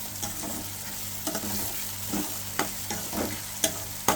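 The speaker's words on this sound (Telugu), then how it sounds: "ఆయిల్ వేసుకున్నాను, ఆనియన్ వేసానండి" Onion frying in oil in a pan, a continuous close sizzle broken by repeated stirring scrapes and clicks at a loose, irregular rhythm, with no talking.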